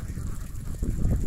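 A large flock of ducks on a remote countryside duck farm produces a brief burst of overlapping low quacks, a thick, constant murmur that grows slightly louder toward the end.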